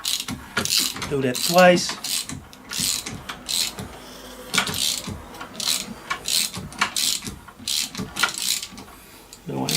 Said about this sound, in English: Now what I'm going to do is rotate the crankshaft in its normal rotating.